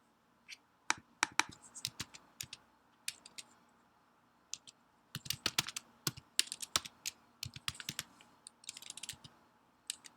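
Irregular bursts of keyboard typing, quick clusters of sharp clicks with short pauses between, close and fairly quiet, no voices.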